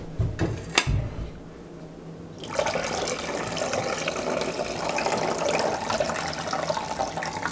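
Water drains and trickles steadily from baked tomatoes into a sink, after a couple of sharp knocks at the start, a continuous moderate splashing stream lasting several seconds.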